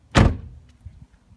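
A single sharp clunk of a door handle being pulled on a locked Saab 9-2X car door, loud and close, followed by faint low rumbling.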